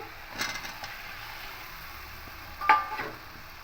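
Fried potatoes tipped into a pan of sugared, sautéed fish for a banana-flower ghonto, giving a soft, low sizzle with a couple of brief clatters, one near the start and a sharper one late.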